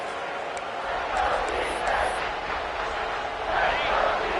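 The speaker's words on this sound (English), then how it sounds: "This crowd is trying to inspire this defense to make a big red zone stop." Stadium crowd in a college football video game, Baylor versus TCU, roaring as the defense faces a red zone stand: a broad, continuous wash of cheering that swells in waves throughout.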